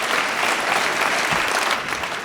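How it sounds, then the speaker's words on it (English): Brief audience applause for a speaker named Richard at an event on electrifying UK freight: an even, full wash of many hands clapping at moderate volume, with no talk over it. "Round of applause for Richard, please."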